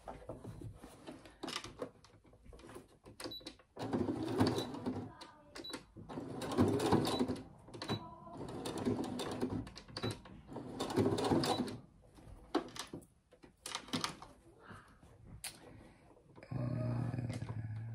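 A sewing machine stitches a seam in bursts, its rapid mechanical whirring running several seconds at a time, separated by pauses with small clicks and handling noises.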